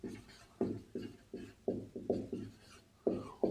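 Chalk or marker writing on a board in a physics lecture, with a series of short, distinct scratchy strokes in an irregular rhythm and no talking.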